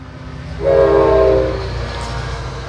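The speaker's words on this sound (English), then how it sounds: "Sorry, I got a train that goes past my house." A train rolls past a house, its horn sounding loud and steady for nearly a second before the rumble of the passing cars fades to a continuous low background.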